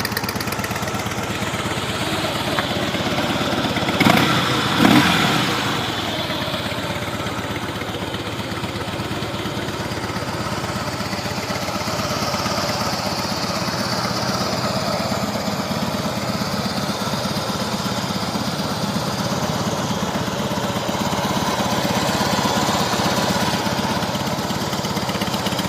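A stock-exhaust 2007 Harley-Davidson Softail Custom FXSTC idles with a steady, loud engine rumble that barely changes throughout, with a couple of short knocks near the start.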